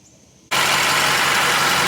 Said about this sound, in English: Then I'm going to start the truck and see if it sounds any different.